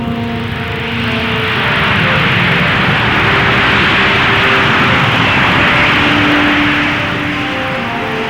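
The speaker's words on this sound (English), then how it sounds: "the XF-2H was unveiled and made its first flight, powering itself into the air with twice the thrust of the Phantom." McDonnell XF-2H Banshee jet aircraft taking off, a loud broad roaring rush that swells from about one second, holds strong and eases slightly toward the end, with no voices.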